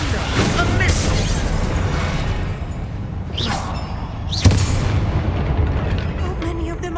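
An explosive spell blast from Hogwarts Legacy, either Confringo or Bombarda, booms over a dense rumbling battle. Whooshes come first, then a sharp burst near the middle.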